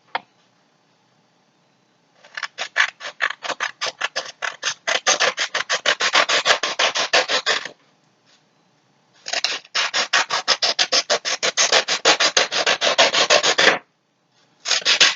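Scissors slice through two stacked sheets of red and orange paper in long runs of rapid, rasping snips, near and loud, with a brief pause between two bursts of cutting.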